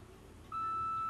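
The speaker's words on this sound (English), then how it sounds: "This decreases the duration time of the beep, so our movements can be faster." A MediLift microcurrent facial device set to speed level 1 gives a single clear, steady electronic beep that starts partway through and holds to the end over a quiet background.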